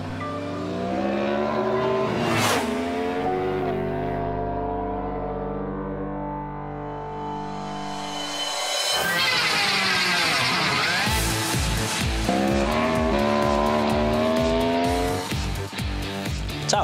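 A Yamaha R1 motorcycle ridden on a track by a robot rider, engine note rising and falling through revs, a long steady whine then hard acceleration with rapid gear-shift stutters, loud and close.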